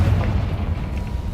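A Confringo spell blast in Hogwarts Legacy: a single deep, booming burst with a heavy low-end thump that rings out briefly, alone with no voices.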